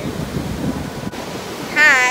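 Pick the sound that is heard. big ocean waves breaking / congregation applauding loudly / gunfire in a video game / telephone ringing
big ocean waves breaking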